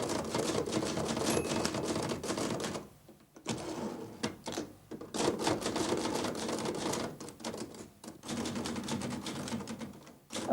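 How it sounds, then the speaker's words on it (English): Rapid mechanical clatter of typewriter keys striking as lists are typed, dense bursts with brief pauses between runs, close and fairly loud. "When I'm typing my lists"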